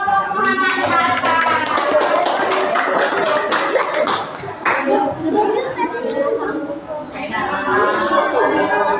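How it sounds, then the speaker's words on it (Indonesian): An elementary school class of fourth graders claps for a student group, a lively patter of many small hands mixed with children talking and chattering over it. "tepuk tangan untuk kelompok Muhammad Hatta"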